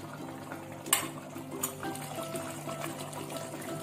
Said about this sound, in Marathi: चिंचेचं पाणी टाकून झाल्याच्या नंतर चांगली उकळी आलेली आहे.